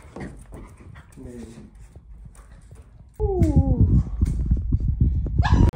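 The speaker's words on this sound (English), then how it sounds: "after playing with the new guard dog for a little bit" A guard dog whimpers in high, sliding whines and then barks more loudly and closer, amid scuffling and handling noise, with a person's voice also present.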